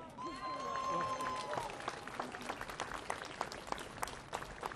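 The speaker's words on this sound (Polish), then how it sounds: "Brawa dla niego!" Crowd applause with scattered claps at Poland's National March for Life, steady and fairly loud across the whole stretch, while a voice carries over the start.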